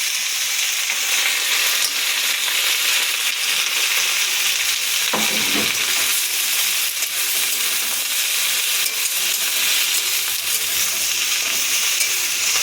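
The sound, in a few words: pumpkin leaves added to hot oil, frying and stirring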